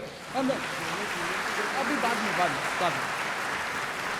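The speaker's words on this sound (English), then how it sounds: "Let us have first round clap for everybody." Applause from a crowd at a school science camp valedictory function, a steady wash of clapping with voices speaking over it at the start.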